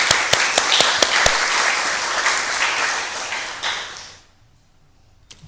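A church congregation at a Sunday service breaks into applause, a dense wash of clapping punctuated by a few sharp pings, then fading away to near silence with a faint tap at the end.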